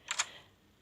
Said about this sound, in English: there was a clicking sound and the window opened